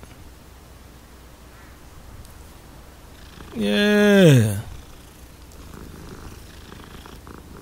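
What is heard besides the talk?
cat purring in Hogwarts Legacy video game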